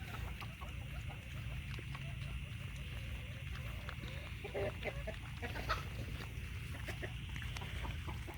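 Farm chickens cluck in short, scattered bursts over a steady low hum, the calls moderately close and irregular, with some quiet background voice in places.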